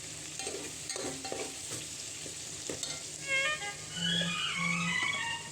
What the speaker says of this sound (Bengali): এটা হালকা করে ফ্রাই করে নেব